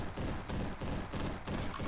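A G11 rifle fires in the Roblox game Bad Business, a loud continuous rapid burst of shots with brief rhythmic dips, no talking.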